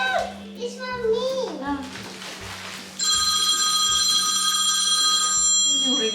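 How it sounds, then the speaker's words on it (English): A telephone ringtone begins partway through as a steady, bright electronic trill that fills the rest of the clip, preceded by a child and an adult talking over a low, regular thumping. "Yung ringtone niya, yung telepono niya, nakakainis."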